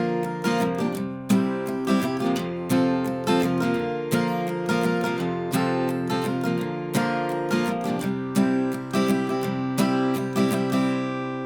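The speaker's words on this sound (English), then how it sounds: "Now if I put the strumming pattern with that, or down, down, up, it's gonna sound like this." An acoustic guitar strums chords in a steady down, down, up rhythm, played clearly and alone with no talking.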